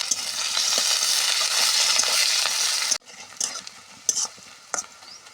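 Chopped onions dropped into hot oil with five-spice and dried red chillies for a vegetable chorchori, a loud steady sizzle that cuts off abruptly, followed by sparse spatula scrapes and stirring taps in the pan.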